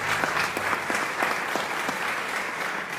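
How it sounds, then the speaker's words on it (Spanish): A church congregation claps briskly in a short burst of applause, a steady wash of many hands at moderate volume. "Dale un aplauso fuerte al Señor."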